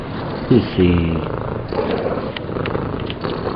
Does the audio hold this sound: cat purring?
yes